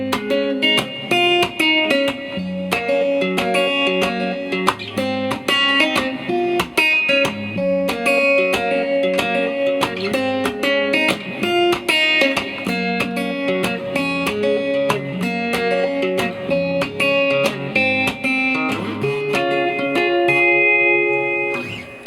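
Guitar plays the chorus of a song in a live-style arrangement, a steady stream of bright plucked chords and picked notes with rhythmic strums, close and loud and continuous for over twenty seconds with no talking.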